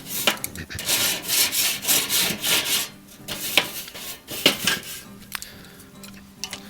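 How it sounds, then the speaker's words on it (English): A barbecue grill grate being scraped clean, with rhythmic, harsh rasping strokes close by that give way to slower, scattered scrapes and metallic knocks. "just gonna clean off my grill grate"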